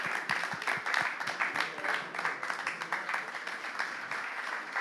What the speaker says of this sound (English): a round of applause for our two participants